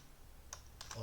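A few quiet key presses on a computer keyboard while typing into Notepad, two short clusters of clicks close by and faint, no speech.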